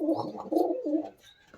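Golden Teddy pigeons of an old breed coo in a few soft, low rounded phrases that run close together and then trail off into quiet.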